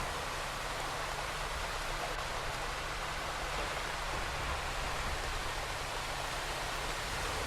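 A waterfall in the Bus World video game pours in a steady, even wash of broadband rushing noise that stays constant and moderately loud throughout, with no voices or other events over it.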